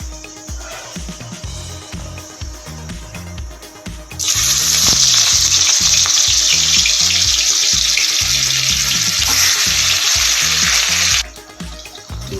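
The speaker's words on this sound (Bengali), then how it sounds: "এবার আমি মাছগুলো ভেজে নিচ্ছি" Pieces of catla fish fry in hot oil, a loud dense sizzle that flares up suddenly and holds steady for several seconds before dropping away, over a quieter background hiss.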